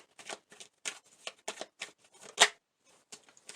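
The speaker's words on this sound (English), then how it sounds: "I'm going to pull a few message cards here for you" Message cards are shuffled and pulled from a deck, giving a run of short papery riffles and flicks, one sharper snap near the end, fairly close with no talking.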